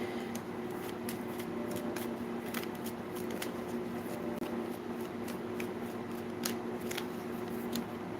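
Tarot cards handled and pulled from a deck: soft repeated papery flicks and riffles over a steady background hum, close but fairly quiet, with no talk.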